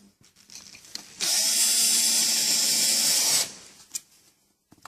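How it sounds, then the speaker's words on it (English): A power drill running on low speed drives screws into door hinges, one steady loud whine of about two seconds, close by, with quiet handling noises before and after. "Now we need to screw them into position."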